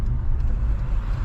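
An Alfa Romeo 156 SW's engine revs briefly while driving, a loud, low rumbling surge heard from inside the car.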